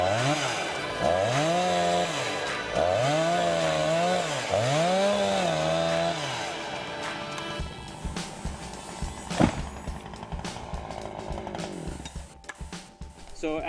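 A chainsaw felling a tree revs in repeated rising and falling bursts, loud and close, then settles into rougher idling with cracking and thumps near the end.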